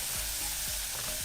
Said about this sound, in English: Now stir.